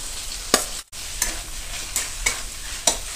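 Ridge gourd and fried potatoes are stirred in a frying pan over a soft sizzle, with sharp scraping strokes of the spatula recurring about every half second to second, close up.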